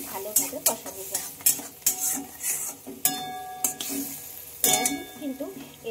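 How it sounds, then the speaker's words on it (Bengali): Masala cooked with a little water and stirred in a pan for fish paturi, quick scraping strokes and metal clinks over a bubbling sizzle, close up. "তো চলো মশলাটা এবার খুব ভালোভাবে কষানো যায়।"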